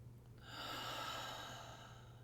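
One slow, deep inhale during a guided meditation, a steady close airy breath lasting nearly two seconds over a low background hum, with no talking.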